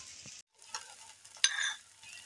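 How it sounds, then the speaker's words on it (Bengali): Batter frying in ghee in a pan, with soft sizzling, a few stirring scrapes and a brief louder burst of hiss partway through, heard close and alone. "মাঝখানে ঘি দিয়ে চেটে চেটে ভেজে নেব"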